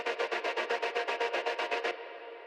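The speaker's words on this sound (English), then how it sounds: "I'm just using it more like a drone sound rather than just this heavy synth sound." A synth pulses in a steady rapid gated rhythm, about sixteen even chops, then settles into a sustained drone, used as a drone layer in an electronic track mix.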